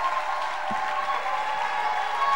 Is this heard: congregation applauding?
yes